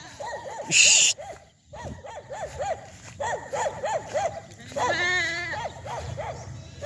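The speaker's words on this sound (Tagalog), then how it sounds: "Ayun na mga alagang kambing" Goats bleat repeatedly in a lively chorus at close range, with a loud burst early on and shouting voices mixed in.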